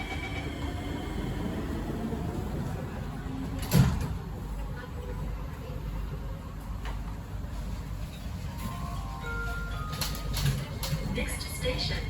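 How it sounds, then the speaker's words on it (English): SMRT KSF C151C train doors close with a single thud partway through the clip, heard inside the carriage over the steady rumble of the train running between Sembawang and Yio Chu Kang in rain. "Doors are closing."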